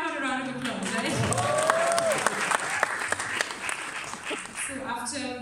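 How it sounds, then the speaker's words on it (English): A crowd at a film audio launch press event in Dubai claps steadily throughout, with voices and a brief rising shout mixed in over the dense applause. "why not a round of applause, right?"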